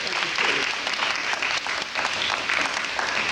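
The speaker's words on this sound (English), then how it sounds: "Give them a strong round of applause." A crowd at an honoring event breaks into strong, sustained applause, a dense, continuous wash of clapping heard close and loud for the whole stretch, with faint voices mixed in.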